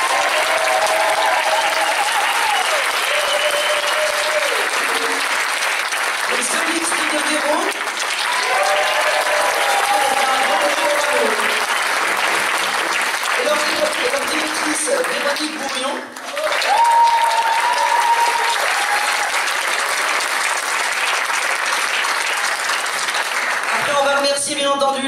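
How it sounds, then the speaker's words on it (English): A theatre audience at a tribute concert claps and cheers in long sustained applause, while a voice talks over the crowd and bits of tonal sound rise from the stage. "On va les applaudir tous ensemble."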